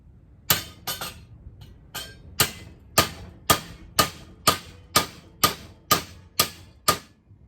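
A hammer strikes hot metal in a steady rhythm during diesel engine work, about a dozen sharp ringing blows roughly half a second apart, close and loud with no talking.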